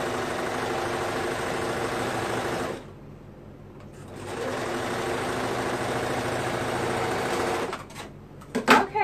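A sewing machine stitches mesh boys' shorts together in close, steady whirring runs, pausing briefly after about three seconds before starting again, then stopping with a few clicks.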